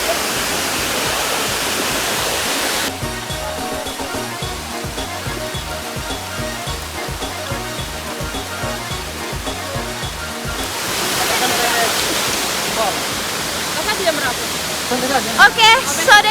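Oeahala Waterfall in Timor roars as a continuous broad rush of falling water, loud and close throughout, with a patch of rhythmic low thumping partway through and brief clatter near the end.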